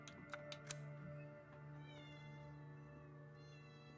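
A house cat meows softly indoors, giving a few faint, drawn-out meows with short gaps between them against a quiet background.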